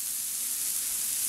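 Squash and garlic sauté in a very hot pan, giving a steady, close sizzle with no talk over it.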